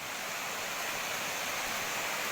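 A forest waterfall in the jungle gives off a steady, even wash of rushing water, fairly soft and constant throughout, with no voices.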